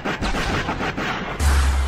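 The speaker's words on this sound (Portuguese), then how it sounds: "É rojão, bomba caseira" Firecracker rockets and homemade bombs exploding at a Zona Norte fan celebration, a rapid string of loud, close booming blasts ending in a heavier, sustained burst.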